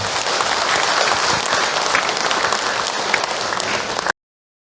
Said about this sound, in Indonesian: Tepuk tangan buat ibu-ibu semua yang hadir hari ini